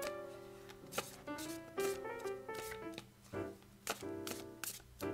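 A deck of cards being shuffled by hand in a quiet room, several crisp riffling bursts and taps in an irregular rhythm over soft background music, close and clear.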